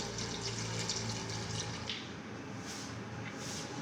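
About one litre of water runs steadily into a cooking pot with onion, tomato, salt and turmeric, in a continuous splashing stream, with a slight change in tone partway through.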